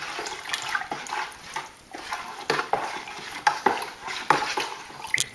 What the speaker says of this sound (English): just stir all this in